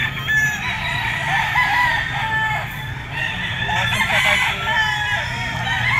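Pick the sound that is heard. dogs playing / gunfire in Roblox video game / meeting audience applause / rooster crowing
rooster crowing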